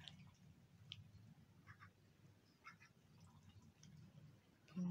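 White ducks feeding on rice bran at morning, with soft pecking and chewing sounds and scattered faint quacks from the flock, quiet and steady with rustling in the pen.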